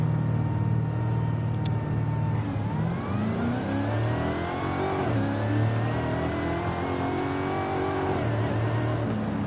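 Dodge Super Bee engine in Forza Horizon 5 revs hard from an in-car view, climbing in pitch through several gear shifts, loud and steady throughout with no talking.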